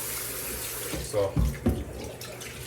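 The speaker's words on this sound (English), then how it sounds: "for the chicken, you just want to rinse it off in some warm water" Raw chicken rinsed under a warm running tap in a kitchen sink, with a soft steady water rush and a few heavier splashes as the chicken is moved, while a voice speaks briefly over it.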